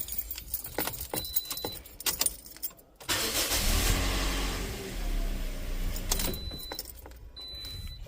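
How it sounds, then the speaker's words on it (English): A 2015 Toyota Corolla cold start: key jangling and handling noises first, then the engine cranks and catches into a steady loud rumble from about three seconds, settling into idle before more rattling near the end. "let's crank this vehicle and see if we get that noise"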